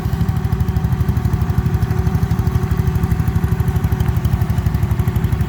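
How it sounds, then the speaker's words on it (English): A petrol engine pulls a plough at a ploughing day. It chugs close by with a steady, even rhythm, running smoothly and fairly quietly throughout, with no voices. "So lovely and quiet that petrol engine is."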